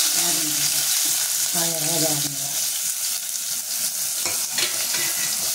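Onions and green chillies hit hot oil for gaarela pulusu, giving a loud, dense, continuous sizzle close by. A voice talks over the first couple of seconds, then the frying carries on alone with a few stirring knocks.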